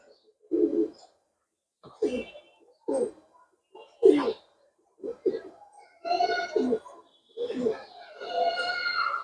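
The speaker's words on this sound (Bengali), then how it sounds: "আগে কবুতরটাকে দেখাই" Pigeon cooing up close, a series of soft throaty coos in short bursts with gaps, becoming longer and fuller toward the end, with no one talking.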